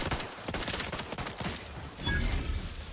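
Revolver shots and battle gunfire ring out in The Outer Worlds 2. A rapid string of sharp, close shots fills the first half, then gives way to a heavier, lower rumble.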